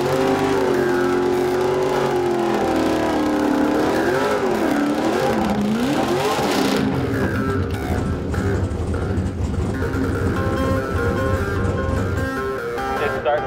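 Race cars running on a track, engines droning and revving with pitch sweeps and some tire noise, loud and continuous, shifting into a rougher wash of car noise partway through.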